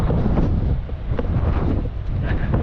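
Strong wind buffets the microphone with a steady low roar and gusty rumble throughout, with no talking.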